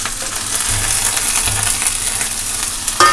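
Garlic, chilli and onion sizzle steadily in a hot pan for a green-leaf vegetable dish, a loud, continuous frying hiss with light stirring scrapes and a clink near the end.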